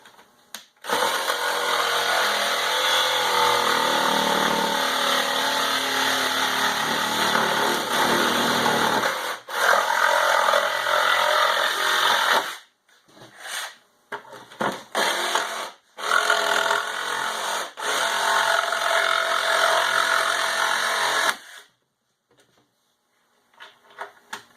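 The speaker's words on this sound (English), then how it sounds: "Now we're going to finish it off with our jigsaw." Jigsaw cutting through the back of a base cabinet, a loud, close, buzzing rasp running steadily in long bursts, then stopping and restarting in short spurts before falling silent.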